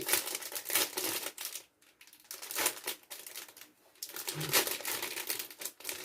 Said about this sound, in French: les autocollants, ils ont du mal à décoller